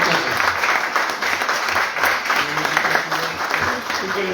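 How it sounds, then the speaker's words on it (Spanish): A crowd gives students a strong round of applause at a CONALEP event, with many hands clapping steadily and fairly loudly, while voices talk and call out over the clapping. "dense un fuerte aplauso"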